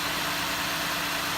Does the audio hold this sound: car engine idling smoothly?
yes